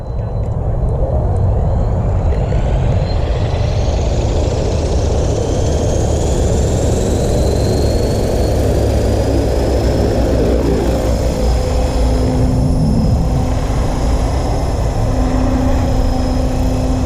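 An Ikarus Eco-8 paramotor engine idles up, a loud, steady buzzing drone whose pitch climbs and settles, with faint talk beneath.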